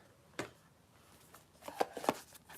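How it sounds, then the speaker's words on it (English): Light Seers Tarot and Divine Energy Oracle cards being shuffled by hand: faint, soft riffling and slapping taps, a single flick followed by a short cluster of quiet card sounds. "Today I will be shuffling, actually, the Light Seers Tarot and the Divine Energy Oracle."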